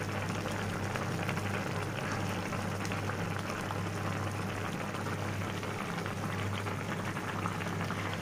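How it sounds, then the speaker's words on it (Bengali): A pot of small fish curry boils on high flame, a steady soft bubbling and hissing with a low hum underneath, continuous and even throughout. "এই তো তরকারিতে বলক এসে গেছে"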